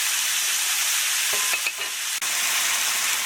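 Marinated chicken searing in a hot frying pan over medium heat, a steady loud hiss and sizzle throughout with a brief clatter midway as the meat goes in.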